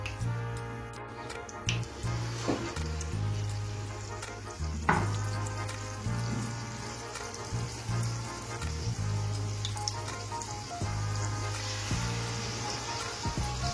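Batter-dipped gokul pithe fry in white oil in a non-stick pan over low to medium heat, with a continuous close sizzle, small crackles and a low steady hum behind.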